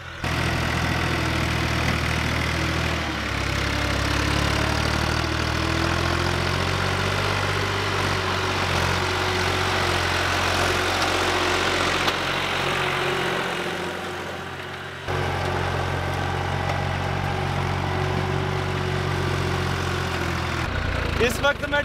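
A tractor engine idling on a farm field, heard from atop the tractor roof, with a steady, low, rumbling drone that continues throughout, dipping briefly once before settling back in.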